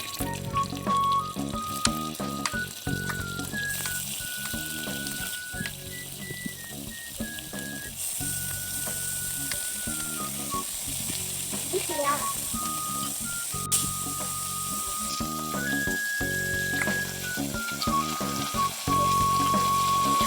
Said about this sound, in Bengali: আমাদের মাংস ভাজা শেষ